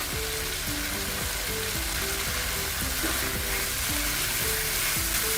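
Paneer stuffing with coriander stirred in a hot pan over high gas: a loud, steady sizzle with repeated rhythmic scraping strokes of the spoon, close and continuous, no voices.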